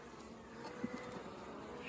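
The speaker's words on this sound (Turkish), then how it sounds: "Zaten arı sinirlenmiş." An agitated honeybee buzzes at a beehive in an apiary, a faint, thin drone that holds steady throughout with a couple of soft knocks partway through.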